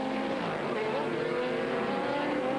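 Race cars in a 2000 American Le Mans Series race, a BMW among them, roar as a steady, loud engine drone with shifting pitch, heard under commentary.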